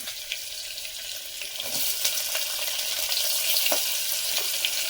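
Onions hit hot oil in a pan for mutton keema semiya and fry with a bright hissing sizzle that swells and then holds steady, close and fairly loud, with no talk.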